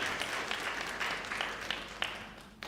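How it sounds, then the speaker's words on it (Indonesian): A church congregation applauds during a sermon, a short burst of moderately loud clapping with a few sharper claps near the end. "ya boleh tepuk tangan"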